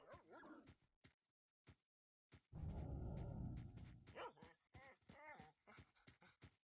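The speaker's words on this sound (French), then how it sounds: "Ah, il est là ce putain de chien." Dog from the game S.T.A.L.K.E.R.: Shadow of Chernobyl barks and yips in short bursts, then whimpers, with a loud rumbling burst of game noise in the middle.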